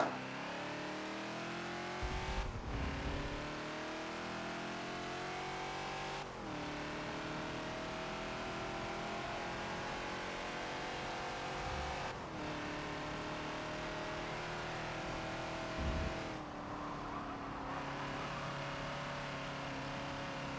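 Ford Falcon XB race car lapping Spa in Forza, its engine revving hard and steadily through the gears with brief dips at each shift, loud and continuous throughout.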